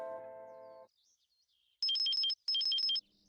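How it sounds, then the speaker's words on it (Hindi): A mobile phone ringtone plays two bright, beeping bursts of high electronic notes after a short musical phrase and a pause, loud and close, with no talking. "एक सेकेंड, हाँ, शरद सर का फोन है।"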